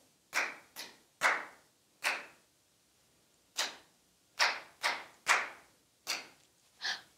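Hand claps tapping out a grasshopper rhythm pattern, sharp and close, in uneven groups of two and three separated by short pauses.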